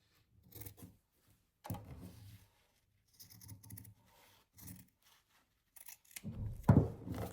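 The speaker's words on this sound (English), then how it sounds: "I'm going to use this same fabric for the back, let's see. So I'll just cut a piece of this." Scissors cut a piece of fabric for the back of a sewn Christmas angel ornament, heard as short close snips and rasping crunches in separate bursts with quiet gaps between them, the last cut loudest.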